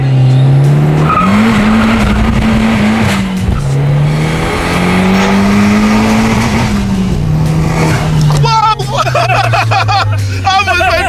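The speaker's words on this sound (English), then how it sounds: "We're just gonna take it for a spin now." A 287 BHP Fiat Abarth 500 accelerating hard, its loud engine note climbing through the revs with tire squeal and excited voices from inside the car near the end.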